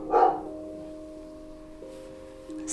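Dog giving a single sharp bark at a package delivery, followed by a faint sustained tonal hum with soft noise at the end.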